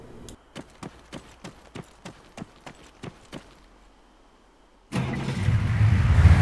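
Cars approaching in the video game ArmA 3: a run of regular clip-clop thuds gives way to a sudden loud engine roar that swells and holds, close by and with no talk over it.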